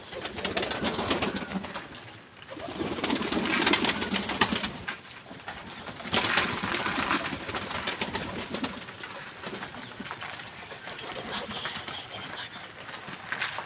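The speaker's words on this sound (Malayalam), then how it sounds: "ഇനി നമുക്ക് പ്രാവുകളെ കാണാം" Pigeons on a small farm coo amid a busy, noisy background of scattered bird calls and occasional wing flaps, the cooing fairly faint and continuous without speech.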